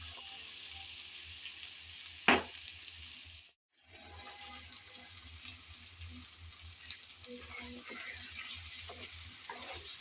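Okra cooked with tomato and five-spice fries quietly in a pan as chopped coriander is stirred in. A low, steady sizzle runs throughout, with a sharp clack early, a brief silent gap, and soft spatula scrapes after.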